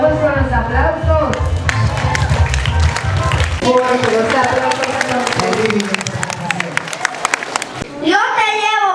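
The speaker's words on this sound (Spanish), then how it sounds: "Vamos con los aplausos." Steady applause and clapping from an audience at a Guarani-language cultural performance, loud and continuous for most of the stretch, with crowd noise and musical tones mixed underneath before it thins out near the end.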